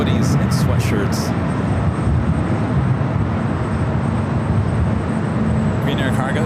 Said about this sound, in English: Green Air Cargo, 777 freighter taking off there on the south side and runway 25 to the left